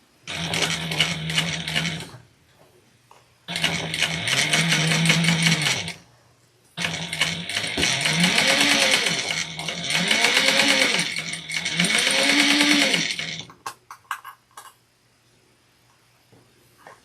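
Sewing machine stitching a convertible backpack, running in four steady whirring bursts with short pauses between them, the needle chattering rapidly and closely at an even pace.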